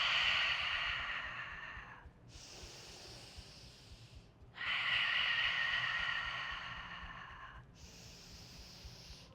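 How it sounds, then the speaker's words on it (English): Two long breaths pushed out through the mouth during a yoga class, each a soft, airy rush lasting about two seconds, near and calm, with quieter breathing between them and no talking. "Exhale, mouth."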